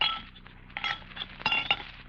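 Glasses being set out for pouring Coca-Cola, several light bright clinks and taps of glass scattered over a couple of seconds, close and fairly quiet.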